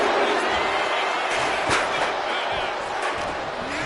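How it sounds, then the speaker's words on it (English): A wrestling arena crowd roars continuously in the WWE 2K26 video game, a dense, loud wall of cheering with a few thumps, while a commentator's voice runs underneath. "And Tiffany is getting the crowd going."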